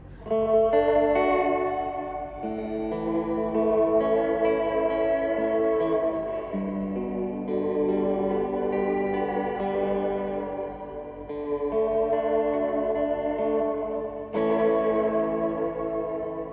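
Electric guitar played through a Fender Reflecting Pool reverb and delay pedal, sustained chords and notes swelling into a lush shimmering wash with trailing echoes, loud and alone.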